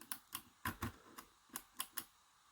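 Small, crisp clicks come from the pins of a Falcon KIK lock as it is picked, about nine separate ticks at uneven intervals, quiet and close.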